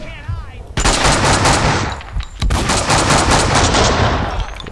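AK rifle gunfire in the video game Max Payne 2, loud and close: two long sustained bursts of rapid automatic shots with a short gap between them, trailing off into scattered echoes.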